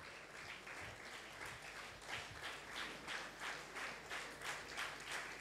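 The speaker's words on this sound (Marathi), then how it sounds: "जोएलसाठी देखील जोरदार टाळ्या झाल्या पाहिजेत." A congregation at a 30th anniversary thanksgiving service breaks into sustained applause for a young man named Joel, the clapping steady, dense and somewhat distant, and it swells in faint pulsing waves.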